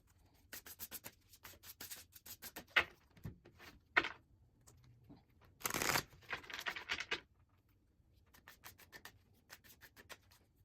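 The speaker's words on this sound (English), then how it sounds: "As I was shuffling, they're saying it's a bit of a rough shuffle." A deck of tarot cards being shuffled by hand, soft rubbing and riffling bursts with quiet pauses between, close and faint, no voices.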